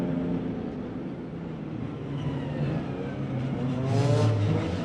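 A GT4 race car accelerating away from a hairpin at the Macau Grand Prix, its engine note rising as it pulls through the gears, loud and sustained against track ambience.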